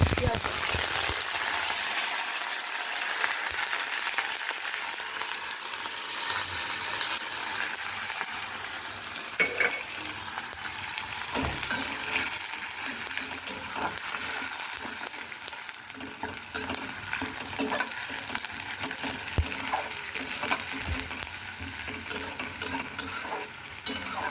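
Whole spices, including cardamom, cumin and peppercorns, tempering in hot oil for egg korma: a steady, close sizzle and crackle with faint stirring scrapes, running throughout while someone talks quietly at times.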